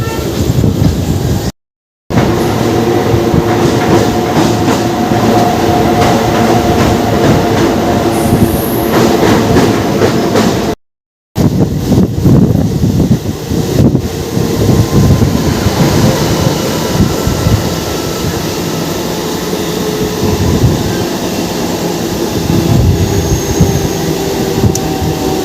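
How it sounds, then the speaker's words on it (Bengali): The SMVT Bengaluru–Agartala Humsafar Express passing close by, a loud, sustained rumble of rail cars with rhythmic wheel clatter and occasional squeals over about 25 seconds, briefly cut out twice. "এসএমবিটি বেঙ্গালুরু থেকে আগরতলা হামসাফার এক্সপ্রেস।"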